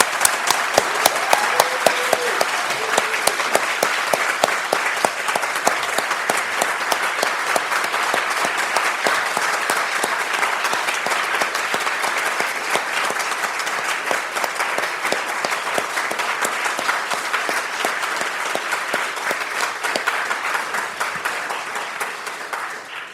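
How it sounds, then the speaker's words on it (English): Sustained, loud applause from an audience at a 2023 alumni awards ceremony, dense steady clapping for all the awardees that holds evenly for over twenty seconds before tapering slightly at the end. "join me in one last very enthusiastic round of applause for all of our awardees"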